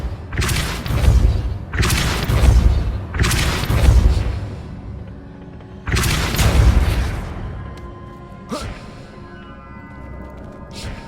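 Heavy booming blasts of the Depulso spell from Hogwarts Legacy, five deep thudding bursts in uneven succession with a rumbling tail after each, followed by a sharper short crack near the end.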